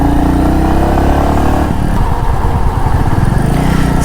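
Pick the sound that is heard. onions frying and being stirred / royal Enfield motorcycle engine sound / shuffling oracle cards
royal Enfield motorcycle engine sound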